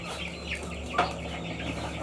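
Chickens in a village coop cluck softly over a steady low hum, with one brief, sharper cluck standing out midway.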